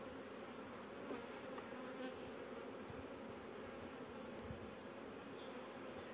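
Honeybees from a swarm taken from a beech tree drone in a continuous low buzz, close and steady, with the light rustle of hive handling and no voices.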